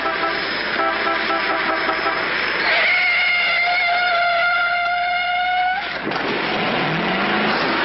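A car speeds along recklessly, its engine roaring loud and steady with rising, sliding pitch throughout, a horn-like tonal sweep in the middle before the sound breaks off and shifts near the end.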